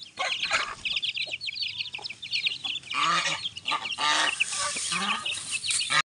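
Rhode Island crossbreed hens cluck and call in a busy yard, with bursts of clucking and squawks overlapping chirps from other birds, close and lively throughout.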